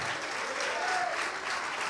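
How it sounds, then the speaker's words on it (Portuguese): A church congregation in Carapicuíba breaks into sustained applause, a dense, continuous wash of many hands clapping together, loud and even throughout. "dar para esta palavra a melhor salva de palmas que já se ouviu em Carapicuíba"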